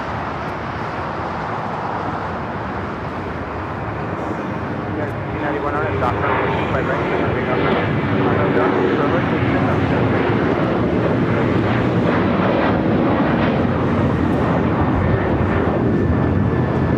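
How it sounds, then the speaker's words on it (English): A United Airlines Boeing 737-900ER jet roars on takeoff at LAX, a loud, steady broadband engine rumble that swells and holds, with wind buffeting the microphone and voices faintly underneath. "That was United Airlines Flight 1635 heading to Dulles in a 737-900ER."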